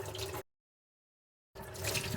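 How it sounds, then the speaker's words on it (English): Tap water runs steadily over a dirty filter being rinsed clean at a sink, a close, even splashing rush that cuts off completely for about a second in the middle before resuming. "I'm basically just running water over it until the water is running clear"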